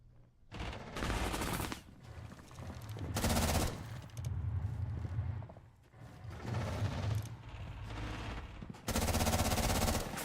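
Automatic gunfire with heavy recoil in a competitive video game comes in several long, loud sustained bursts separated by short gaps, each burst a dense string of rapid shots.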